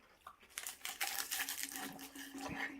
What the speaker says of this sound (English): you can hear that bit's crunching in my mouth